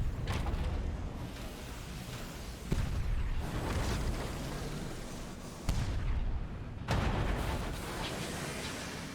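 Ship cannons firing in the steampunk game Sunless Skies, with heavy booming shots at intervals that roll into a dense, rumbling wash of noise, loud and close with no voice over them.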